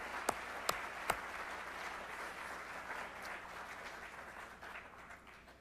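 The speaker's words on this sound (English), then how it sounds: "Let's give all of our staff a round of applause." An audience at a college staff meeting applauds, a few sharp claps at the start and then sustained, fairly loud clapping that slowly tapers toward the end.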